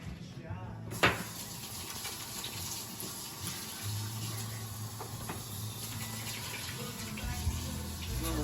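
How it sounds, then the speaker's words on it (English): Tap water runs steadily from a faucet into a sink during handwashing before a pork butt rub is prepared, a continuous close wash with a sharp knock near the start and faint background voice. "Let me wash my hands."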